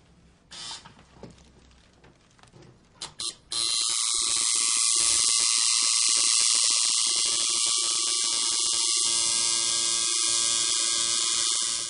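A tattoo machine runs its needle while pulling a line, first a few faint taps and clicks, then a sudden loud, steady high-pitched buzz that continues to the end.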